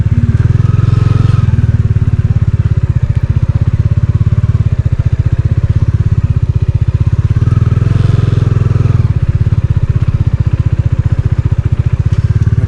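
Motorcycle riding a dirt road near Sarchu in Ladakh, its engine a loud, steady close chugging drone with rattling clatter throughout, faint voices now and then underneath.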